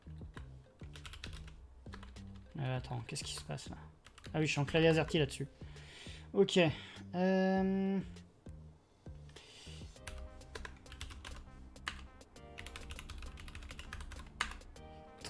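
Someone types on an AZERTY computer keyboard during a live-streamed botnet coding project, with irregular bursts of clicking keystrokes alternating with pauses, and someone talks intermittently over the typing.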